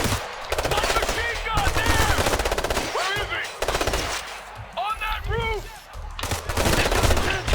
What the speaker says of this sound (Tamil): இந்த கண்ணு நல்லா இருக்கு சுடுறக்கு.